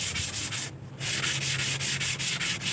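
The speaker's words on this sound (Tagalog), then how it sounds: "Pwede mo siyang lihahin" Steady back-and-forth rasping of sandpaper on hardened body filler, rhythmic strokes repeating evenly with one brief pause, close and fairly loud.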